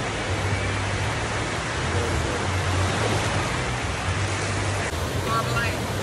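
Ocean waves wash onto a beach at sunset, a steady broadband surf roar that stays loud and unbroken throughout, with a faint low hum underneath.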